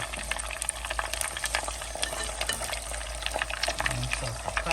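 Onions sizzle and crackle in a frying pan alongside coconut, a steady dense hiss with brief stirring scrapes, heard fairly quietly throughout.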